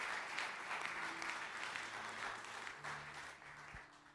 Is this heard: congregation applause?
yes